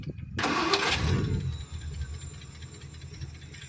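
A Packard 327 straight-eight with a four-barrel carburetor cranks and fires up with a loud, close burst, then settles into a smooth, steady idle.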